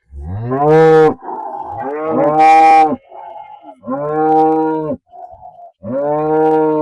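Cows lowing in a grassy pasture, several loud, close moos one after another with brief pauses between calls, no talking.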